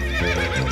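A cartoon horse whinnies loudly and close, a shaky, rising neigh that fills the short moment with no talking.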